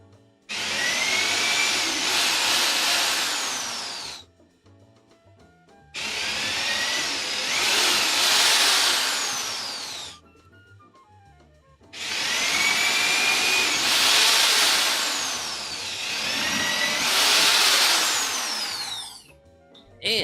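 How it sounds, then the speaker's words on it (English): Corded power drill boring holes while building a table saw stand, running in three long, loud whirring bursts of several seconds each, with short quiet pauses and faint handling noise between them. "upgrading to the corded drill for this assembly was definitely the way to go"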